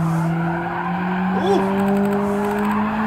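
A 200hp Nissan S13 with an angle kit drifts in Gran Turismo 7, its engine droning steadily while tires squeal through the slide, with a brief spoken exclamation over it.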